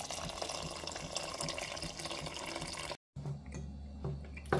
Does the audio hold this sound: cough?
no